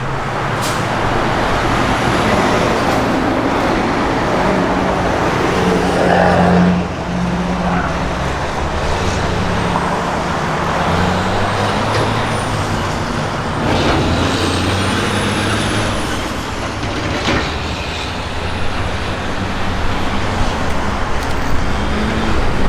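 A 1964 Chevrolet Nova SS with an aluminum radiator and 700R4 automatic overdrive transmission runs steadily up close, its low engine drone continuous and fairly loud throughout, with a faint whine and road-like rumble layered over it.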